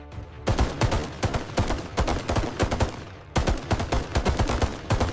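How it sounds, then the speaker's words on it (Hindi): Rapid bursts of gunfire fired blindly in the dark during a 1971 night harbour raid crack in quick succession, loud and sharp, in several volleys with a brief pause near the middle. "वे अंधेरे में अंधाधुंध गोलियां चला रहे थे।"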